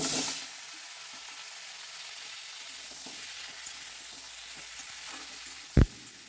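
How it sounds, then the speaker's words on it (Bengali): Vegetables sautéing lightly in hot oil for a neem-leaf curry, a steady close sizzle and frying hiss with a short sharp clatter near the end. "এই তেলটা আমার গরম হয়ে গেছে এই তেলের মধ্যে আমি বাকি যে সমস্ত সবজি সবগুলো এর মধ্যে একটু হালকা করে সাঁতলে নেব"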